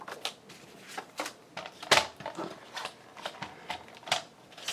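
Paper is cut in half for an envelope craft, giving a close series of short, crisp snips and light paper rustles at an uneven pace.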